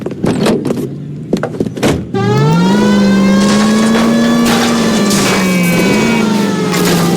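A car in the L.A. Noire video game smashes through backyards: a short burst of knocks and crunches, then a loud sustained engine roar that revs and holds close and steady to the end.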